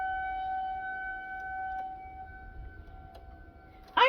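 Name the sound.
civil defense siren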